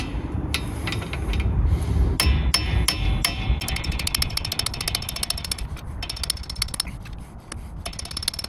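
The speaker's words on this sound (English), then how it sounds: "I'm going to hammer on the bearings" Hammer tapping bearings onto a Mini drive shaft through a 22mm socket, sharp metallic strikes coming singly at first, then in a rapid rattling run, close and clear over a low rumble, with no talking.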